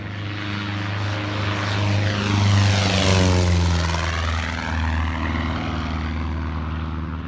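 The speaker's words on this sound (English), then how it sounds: "Here comes Mike in RV8." A Van's RV-8 propeller airplane flies past, its engine drone swelling to a loud peak overhead with a clear pitch drop as it passes, then fading steadily away.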